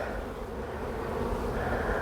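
Honeybees drone in a continuous, even buzz at close range as frames are shaken off a hive, a dense low hum with no breaks or talking.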